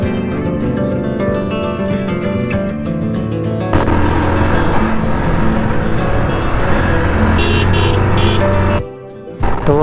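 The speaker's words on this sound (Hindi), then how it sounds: "खूब सारी गाड़ियाँ रास्ते में देखने को मिल रही हैं" Cars and other vehicles roll past on a mountain road, a loud continuous traffic roar with engines swelling and fading as they go by, briefly dropping away near the end.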